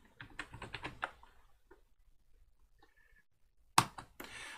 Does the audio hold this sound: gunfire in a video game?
no